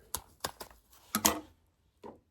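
Zipper scissors snipping a zipper, a handful of short, sharp clicks close to the microphone, spaced irregularly with a faint final snip after a pause.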